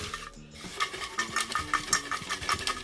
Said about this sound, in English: give them a good stir